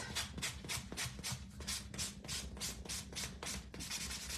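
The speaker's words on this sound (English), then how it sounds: "So I'll just take my sanding block," A sanding block rubbed by hand along the edges of a wood blank Easter bunny, regular back-and-forth scratchy strokes, about three per second, close and steady with no talk.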